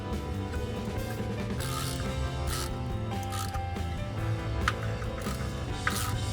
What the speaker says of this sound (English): then just take the 10mm and just snug them up.